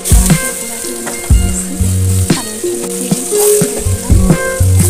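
Beef spleen fries with onions and spices in a pan, giving a loud, steady sizzle with crackling bursts and occasional stirring scrapes throughout.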